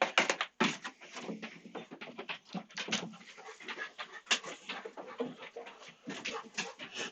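A dog whines and pants close by in a steady stream of short, breathy whimpers, with no talking.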